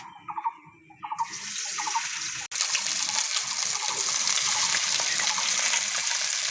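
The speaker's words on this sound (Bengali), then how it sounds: "তেলটা গরম হয়ে গেছে, ধুয়ে রাখা উচ্ছেটা দিয়ে দিচ্ছি।" Washed bitter gourd drops into hot mustard oil, and a loud, steady hiss starts abruptly and carries on close by. A few light clinks come just before it.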